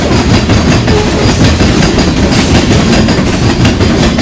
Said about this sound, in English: Twin DPUs! DPU alright! Alright! Whoa! Union Pacific!